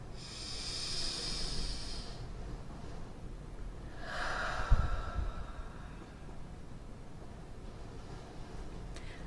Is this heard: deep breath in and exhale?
yes